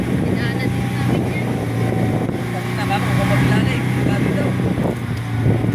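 A loud motorboat engine drones steadily, with wind buffeting the microphone and faint voices mixed in.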